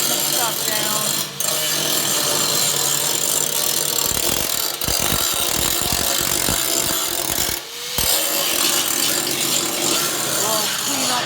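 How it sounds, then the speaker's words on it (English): A power tool grinding down metal on a 1964 Ford Fairlane race car, a loud continuous high whine and rasp with a brief break near the middle and short pauses, running steadily throughout. "he's just grinding some stuff down"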